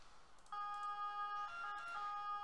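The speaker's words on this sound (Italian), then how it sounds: "Ovviamente facciamo passare prima l'ambulanza perché altrimenti l'automedica rallenterebbe la corsa in ospedale." An ambulance siren sounds from a tone-style emergency vehicle, its steady pitched wail starting abruptly and holding with a brief shift, faint and heard alone without speech.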